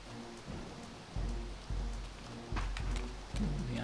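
Rain pours steadily in a dark courtyard in the video game Soul Reaver 2, a dense hiss with low thuds swelling at intervals, heard alone without talk.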